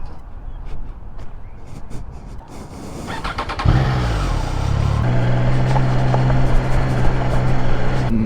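A Triumph Trident 660 motorcycle engine revs up and settles into a loud, steady drone with a low rumbling hum, running continuously while riding.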